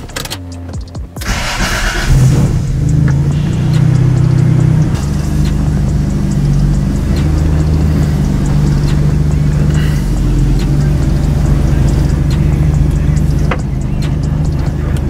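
A car drives over gravel outdoors and brakes hard without skidding, its engine holding a steady loud rumble with crunching gravel under the tires throughout.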